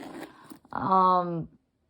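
The zipper on a Louis Vuitton Bagatelle bag is pulled in a single close, loud rasping stroke lasting under a second, preceded by softer handling rustles and ending in silence.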